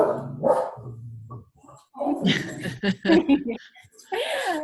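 A dog barks outside while people walk their dogs nearby, a few loud barks and yips mixed with a voice talking and a brief chuckle.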